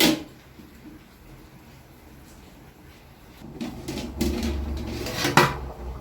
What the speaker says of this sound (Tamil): தட்டம் போட்டு மூடி வச்சிடலாங்க.